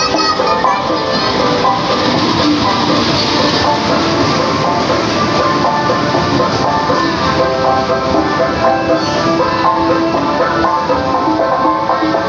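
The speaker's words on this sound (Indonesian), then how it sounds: "Dan dari arah timur saat ini sudah terpantau ya teman-teman kedatangan kereta api Sri Tanjung." The Sri Tanjung passenger train, pulled by a CC201 locomotive, arriving at a station in a loud, continuous rumble with clattering wheels and rail noise that hold steady throughout, while a voice can be faintly heard.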